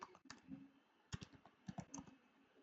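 Someone types a search on a computer keyboard, quiet keystrokes coming in short irregular bursts of clicks with brief pauses between them.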